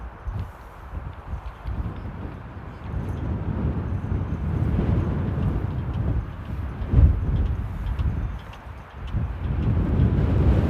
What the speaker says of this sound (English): Oh, and the wind's picking up.